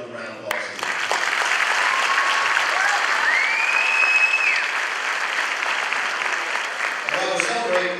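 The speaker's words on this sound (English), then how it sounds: "So let's give another round of applause." Sustained audience applause fills a commencement ceremony hall, a dense, steady clapping from a large crowd that holds at full strength for several seconds before thinning slightly at the end.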